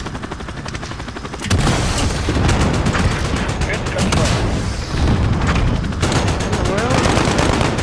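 Dense, rapid machine gun fire in Call of Duty: Modern Warfare local multiplayer, with loud continuous bursts and booming impacts under a helicopter-like drone, while a player talks over it.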